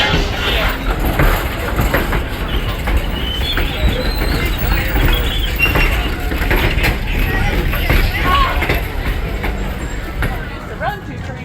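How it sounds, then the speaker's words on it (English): A heritage train at the Strasburg Railroad station rumbles close and loud with a continuous low rolling roar and faint rhythmic rail clatter, with talk mixed in. "19th Century Limited will be the next train into the station"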